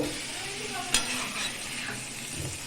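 Meat and potatoes being stirred together in a hot pan, giving a soft continuous sizzle with scraping strokes and one sharp clink of the spoon against the pan.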